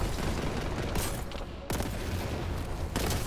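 A thrown grenade blasts in a retro-style Warhammer 40,000 first-person shooter, landing amid dense continuous gunfire, with sharp loud bursts cutting through the din.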